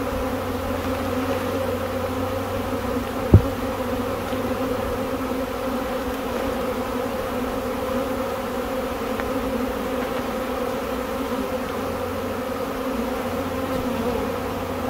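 Swarming honeybees circle an apple tree, making a steady, dense buzz that holds for the whole stretch, with one sharp click early on and no voices.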